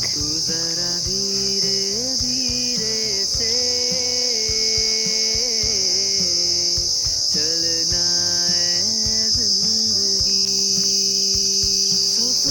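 Crickets near rice fields keep up a loud, continuous high-pitched trill that sits steady over the whole stretch, with a throbbing, pulsing musical track underneath.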